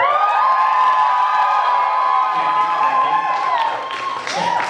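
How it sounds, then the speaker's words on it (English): An audience voting by noise at a live comedy panel show answers with loud, sustained cheering, whoops and applause that fill the whole stretch, swelling near the end. "just by applause here, who here thinks Jean-Luc Picard is fucking sexy?"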